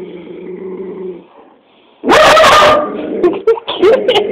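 A dog barks and growls at its own reflection in a mirror, a loud burst of harsh barking followed by several sharp, choppy yips and growls, with a person speaking quietly beforehand.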